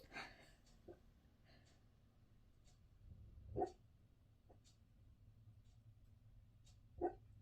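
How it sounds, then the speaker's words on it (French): In a very quiet room, a dog lets out a few soft, muffled woofs and yips, two slightly louder ones spaced a few seconds apart. "on entend Sioux qui est en train d'aboyer"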